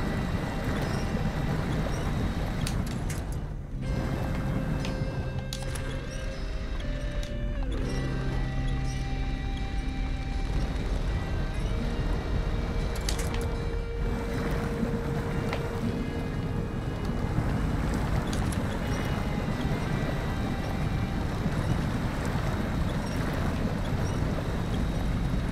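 A Generic 1500 (Dodge Ram) pickup winches itself free in the SnowRunner game: a steady mechanical whine and engine drone with sustained tones, continuous and fairly loud, with no talking.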